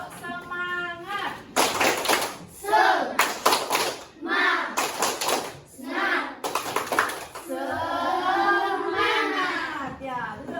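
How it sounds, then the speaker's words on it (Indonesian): A classroom of children in Bali does a rhythmic clapping chant: bursts of hand claps alternate with unison young voices calling out, close and lively, with a teacher's voice at the start. "Supaya lebih semangat lagi mengerjakan LKPD, kita tepuk semangat terus sekali ya. Yuk, tepuk semangat."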